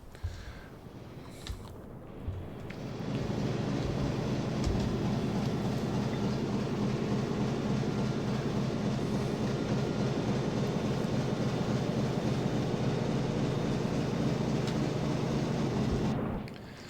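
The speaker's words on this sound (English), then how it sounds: "I need you and 2 crew hands at the diesel so that we can go flank" Submarine diesel engines running at flank speed in the video game UBOAT, a steady, heavy mechanical drone that swells in after a few seconds and holds evenly before dropping off at the end.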